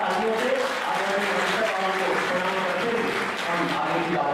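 Applause from an audience at a district meeting, a steady dense wash of clapping sustained throughout, with faint voices mixed in.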